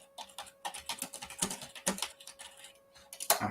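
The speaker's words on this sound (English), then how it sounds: "I hear you typing" Rapid typing on a computer keyboard, steady clusters of close, crisp key clicks with a louder burst near the end, heard alone without talk.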